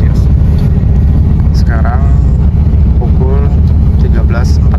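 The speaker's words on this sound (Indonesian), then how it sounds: "Seperti inilah suasana dalam bus Safar menuju Jeddah" Steady, loud engine drone and road rumble fill the inside of a Safar bus heading to Jeddah. The hum stays constant throughout, and brief voices rise over it now and then.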